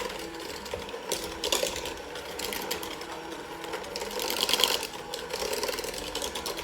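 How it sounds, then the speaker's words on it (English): An electric stand mixer beats peanut butter chocolate chip cookie dough with a steady whirring, rattling drone that swells and dips, running continuously and fairly close throughout. "you're going to mix this until it's creamy"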